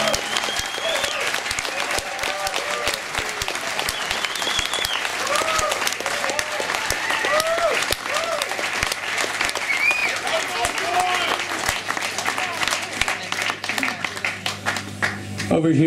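Dense audience applause and clapping fill a live blues concert as the drummer is welcomed on stage, loud and sustained throughout, with cheering voices and an announcer's talk mixed into the crowd noise.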